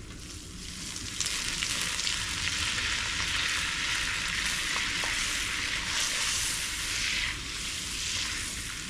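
Butter, olive oil and spices including garlic powder, onion powder, parsley flakes and black pepper sizzle steadily in a pan, a close, continuous frying hiss with faint scrapes of stirring and no talking.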